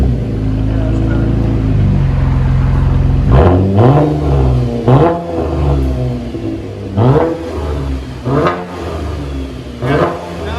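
A Chevy Impala with a 3.6L V6 and its muffler and resonator deleted idles with a steady drone, then revs repeatedly in loud rising-and-falling bursts with short pauses between them, while voices are heard faintly.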